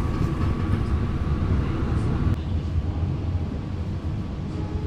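Pasundan passenger train pulling away from Madiun station, a steady loud rumble of wheels and carriages rolling on rails, continuous and close, with no voices.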